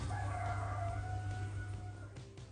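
Roosters crowing at dawn in a rural valley village in Wuyuan, long drawn-out calls repeating over steady low background hum, moderately distant and alone without talk.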